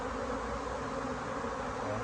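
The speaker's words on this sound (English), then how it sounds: "There's a lot of bees on the ground." Bees crawling on the ground and marching into a hive outdoors, a steady soft buzzing hum from many insects, continuous and fairly quiet with no voices.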